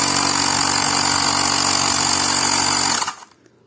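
A Xiaomi Mijia 1S digital air compressor blows steadily with a loud, dense hiss and motor whine for about three seconds, then cuts off abruptly into near silence.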